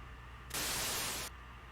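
A short, loud burst of hissing white static from a telephone handset in the Spirit Hunter: NG video game cuts in abruptly, lasts under a second and drops back to a low droning hum.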